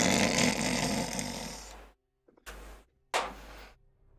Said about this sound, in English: You hear the people snoring in the room.